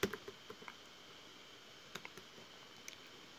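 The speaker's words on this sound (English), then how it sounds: "Here you type Ghostry." Soft, quiet keystrokes tapped on a computer keyboard, a short burst of clicks at the start followed by scattered light taps and pauses, with no voices.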